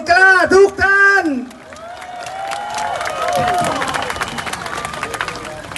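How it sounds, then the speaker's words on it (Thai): A crowd at a Thai street protest rally claps and cheers after a loud amplified speaker's voice, the applause swelling into a sustained, mid-distance roar of clapping and babble. "ขอเสียงปรบมือให้กับพี่น้องผู้มีหัวใจแกร่งกล้าทุกท่าน"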